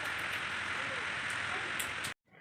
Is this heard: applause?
no